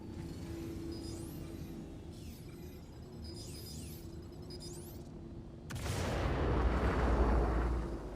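Gunfire from a ship's gunner in the space game Star Citizen, a series of distant sharp shots and whooshing streaks over a steady engine hum, ending in a louder rushing roar.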